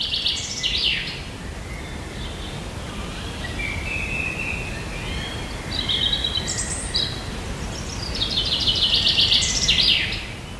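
Birds sing in a forest in southern Chile, several chirping and trilling calls coming in bursts, some close and loud, others fainter, over a steady background of leaf rustle and ambient noise.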